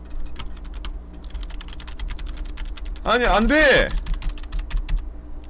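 A computer keyboard is mashed hard during a Friends Marble game session, with rapid, dense clicking throughout and a brief exclaimed voice partway through.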